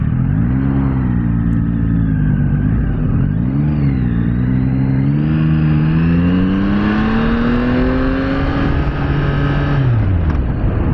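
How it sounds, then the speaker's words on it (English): A Yamaha MT-09 SP motorcycle engine revs loudly and up close, its pitch dipping and climbing repeatedly before surging higher, then cutting off near the end, with no talk over it. "I like the sound of the engine, but I believe the Triumphs sound a lot better than this one"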